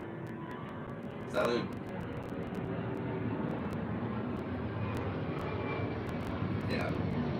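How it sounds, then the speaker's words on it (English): Airplane flying overhead, a steady broadband engine roar held for several seconds at moderate distance, with a person speaking a single word over it. "Whenever a plane flies over, it's so loud."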